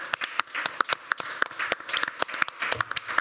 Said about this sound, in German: Applaus für mich